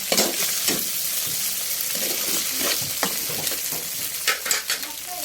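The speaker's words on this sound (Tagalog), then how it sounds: "So nagisa na ako ng garlic at onion." Garlic and onion sauté in a hot pan with a steady broadband sizzle throughout, punctuated by scraping stirs and light utensil clicks against the pan, close and fairly loud with no talking.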